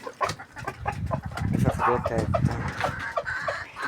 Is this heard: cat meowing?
no